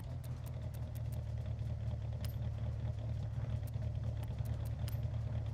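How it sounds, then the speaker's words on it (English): A car engine runs steadily in Forza Horizon 6, a low, even drone with faint ticking clatter on top, fairly quiet and alone without any talk. "There's the engine."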